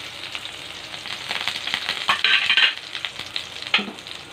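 Garlic frying in hot cooking oil, a steady crackling sizzle that swells and then eases, with stirring clinks, close and alone.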